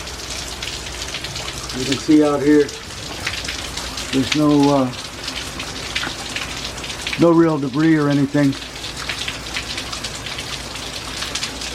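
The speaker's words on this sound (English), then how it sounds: "this has been mostly a rain event so far" Steady heavy rain falls through Hurricane Francine in Algiers, Louisiana, a dense, constant hiss of drops on surfaces that runs the whole way while someone speaks over it in short bursts.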